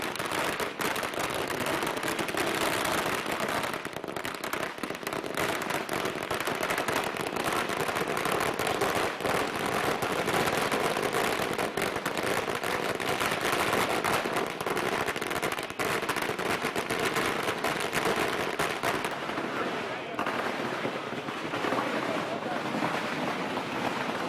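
Firecrackers burst continuously as farmers gather to celebrate, a dense, loud crackle of rapid pops filling the whole stretch and thinning out only near the end.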